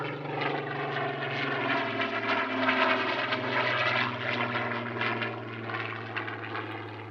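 A propeller aircraft held by Rolls-Royce flies at the Little Gransden Airshow, its engine a steady, moderately loud droning hum that holds evenly throughout.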